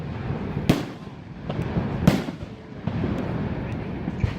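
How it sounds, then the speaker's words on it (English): Fireworks bursting over the river at Niagara Falls in autumn, seen from a hotel room: a few sharp distant bangs spaced a second or so apart over a steady low rumble of background noise. "we could see fireworks from our room over the river in the evening"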